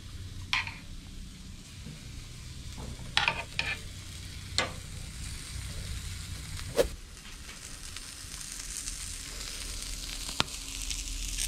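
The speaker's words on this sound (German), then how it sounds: "Die kommen auch, so wie sie sind, mit auf den Grill." Steady sizzling and frying hiss from small frying peppers and vegetables on a hot grill, with a few scattered clinks and scrapes, no voices.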